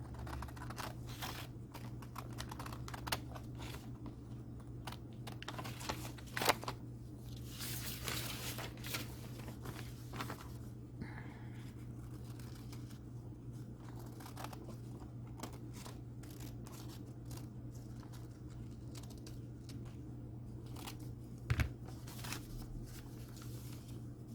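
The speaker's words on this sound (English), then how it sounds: "And I'm cutting just to the inside of the pencil line." Scissors cutting paper along a pencil line for a collage on Bristol board, a run of faint snips and crisp clicks scattered irregularly over a steady low hum, no talk.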